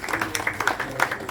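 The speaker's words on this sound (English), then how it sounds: "Give her a round of applause now" Guests applaud Bernadette at Dr Julius Garvey's 91st birthday celebration in a private residence. The clapping is a short, busy burst of overlapping claps at moderate loudness.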